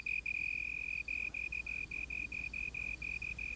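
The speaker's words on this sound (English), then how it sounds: "magnifying the sound made by the slender tree cricket that shapes them" A slender tree cricket calls through a hole in a leaf, a bright, sustained trill broken into regular pulses that repeat at a steady rhythm, close and clear over a quiet night background.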